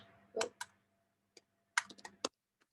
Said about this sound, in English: So we type in here banana bread.